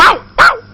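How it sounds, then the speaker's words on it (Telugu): A dog barks sharply twice in quick succession, loud and close, with a third bark just starting at the end. "కుక్క కూడా మరుగుతుంది, ఇంకా అపశకునం."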